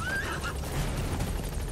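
A horse in the video game Metal Gear Solid V neighs once, a short rising whinny near the start, set over a loud, steady helicopter-like rumble.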